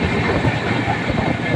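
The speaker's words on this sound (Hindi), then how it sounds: "मुरैना से ट्रेन डिपार्चर कर चुकी है, अब हम ग्वालियर की तरफ बढ़ते हैं।" The 14310 Ujjaini Express passenger train rolls along the rails between Morena and Gwalior, producing a loud, steady, close rumble with rattling wheel noise and no pause.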